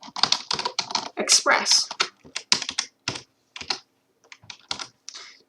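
Rapid key clicks from a computer keyboard as code for a Node.js web server is typed, heard intermittently under a man's close speech.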